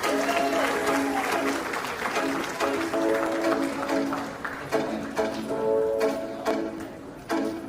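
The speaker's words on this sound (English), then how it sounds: "Please, big round of applause, everybody." Steady applause from guests at a wedding reception, clapping continuously at moderate volume with some cheering mixed in.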